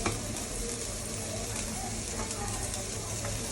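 Spices for a rohu fish curry sizzle and fry in a pan, a dense, loud, continuous crackle with slight stirring movement and no talking.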